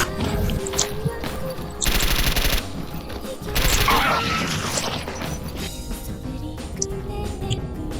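Bursts of automatic gunfire in the shooter S.T.A.L.K.E.R. Anomaly, loud rattling volleys in two or three clusters with crashes and mechanical clatter between them, a player shouting excitedly over the shooting.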